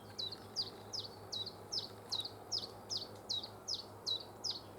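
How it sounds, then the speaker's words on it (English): A small bird perched on overhead wires gives a steady series of short, bright chirps, about two per second, fairly close and clear over a low background hum, with no talking. "It does the chip chop and then it does them little chirps."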